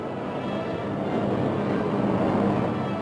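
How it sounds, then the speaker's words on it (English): Warplanes roar overhead in a dense, continuous wall of engine noise, loud and unbroken over a few seconds. "an overwhelming force of planes roars into the sky"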